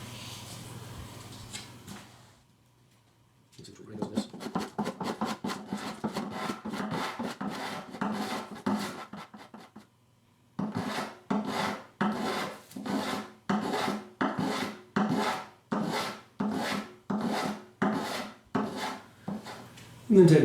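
Rhythmic rasping strokes trim a dried wooden arm bevel binding inlay, in a fast run of scraping passes, then a pause, then another steady series of firm, evenly spaced strokes up close.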